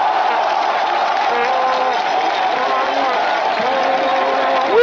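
A large crowd at a political rally in Yopougon, Côte d'Ivoire, roars, cheers and applauds continuously and loudly, with many voices mixed into the dense noise throughout.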